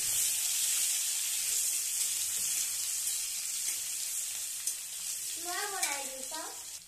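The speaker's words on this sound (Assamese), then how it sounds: "তেলত কেইটামান পাঁচফোৰণ ফুটাই ল'ম আৰু পিঁয়াজ অকণমান দি অকণমান ভাজি ল'ম।" Panch phoron seeds and chopped onion frying in hot oil for a cauliflower, tomato and fish curry, giving a steady close sizzling hiss throughout with a few brief clinks and scraping stirs near the end.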